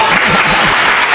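A brief burst of audience applause at a European Researchers' Night gala, dense and steady, many hands clapping together for about a second.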